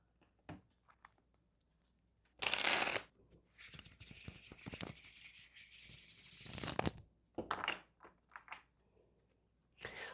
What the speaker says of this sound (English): On that shuffle, I got the Four of Swords.